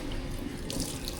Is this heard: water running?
yes